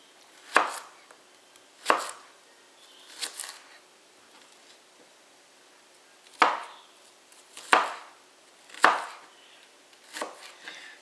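Knife chopping peeled boiler onions on a cutting board at a camp kitchen: seven sharp, separate cuts in uneven pairs and singles, close and clear over a quiet background.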